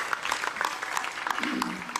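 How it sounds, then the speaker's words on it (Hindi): A crowd claps for the Ayush Minister at a live public event in Uttarakhand. The applause is a brief, dense patter, with a voice speaking over it. "Another big round of applause for our Honorable Ayush Minister"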